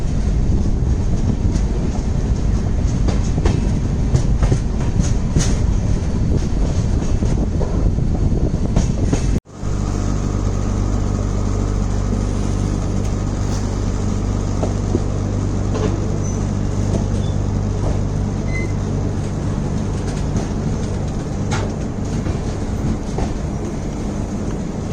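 The Netravati Express pulls out of Karmali railway station with a loud, continuous rumble and rattle of rolling stock. A brief dropout comes partway through, then a steadier low drone with faint clicks continues.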